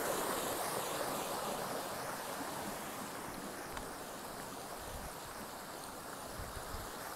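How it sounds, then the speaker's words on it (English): A creek runs right beside the Appalachian Trail, giving a steady, full rushing babble of water that stays even and close throughout, with no voices. "It's running right next to this creek. It's very soothing."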